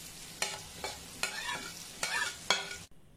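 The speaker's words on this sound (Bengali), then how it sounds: "এখন আলু আর কলিজাটা মশলাগুলোর সাথে ভালো করে ভুনবো" Boiled potatoes and liver frying with spices in a pan, with several distinct scraping stirs over a soft sizzle, fairly close, then abruptly cut off near the end; no talking.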